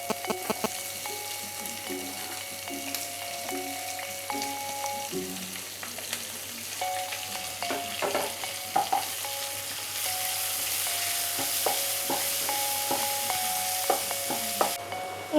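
Chopped onion sizzles and fries steadily in a pan, with repeated spoon-and-pan stirring clinks throughout; close and continuous, no talking.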